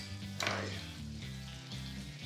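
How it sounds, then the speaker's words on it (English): Big pieces of garlic cook in a hot pan in a firehouse kitchen, giving a soft continuous sizzle over low hum, with a brief louder burst of frying near the start. "garlic's in there cooking up"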